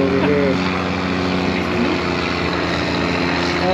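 Deuce-and-a-half military truck engine idling nearby in an off-road setting with stuck Jeeps, a loud, steady low drone with constant harmonic hum and no revving.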